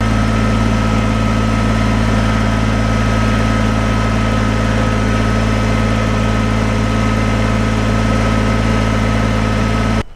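Kubota BX compact tractor engine runs steadily at a constant idle close by, a loud, even, low-pitched drone with mechanical vibration throughout, cutting off at the very end.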